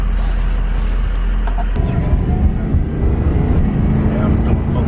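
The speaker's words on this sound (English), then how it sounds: "I'm going full throttle on purpose here to see that everything's good." A Ford 6.0L Powerstroke turbo diesel engine revved hard at full throttle, a loud, steady low roar that jumps in intensity after a brief idle, continuous and close with some wind buffeting.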